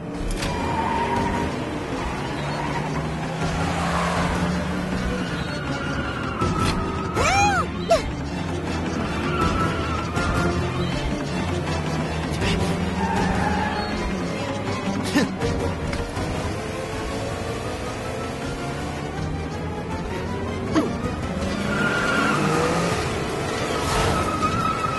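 Animated race cars battling on a track, engines whining and revving as they overtake, with tire screeches, skids and a few sharp impacts mixed through a busy, continuous racing soundtrack.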